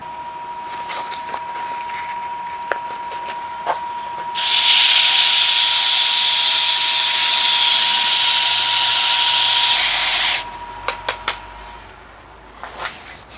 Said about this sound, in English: This one I'm going to sand up to 400.